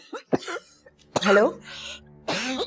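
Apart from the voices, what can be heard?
woman coughing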